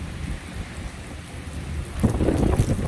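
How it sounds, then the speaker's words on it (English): A thunderstorm rolls in over Central Florida, with steady rain hiss and gusting wind across the microphone, then a deeper rumble of thunder swelling louder near the end. "big storm coming in Central Florida where I'm at."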